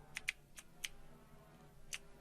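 Scattered computer keyboard keys pressed while playing Star Citizen, a handful of quiet separate clicks at an uneven pace, faint and close against a low background hum.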